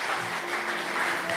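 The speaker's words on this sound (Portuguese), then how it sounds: "vamos aplaudir ao Senhor" A congregation applauds during an evening evangelical church service: a dense, steady wash of clapping from many hands that holds an even level throughout.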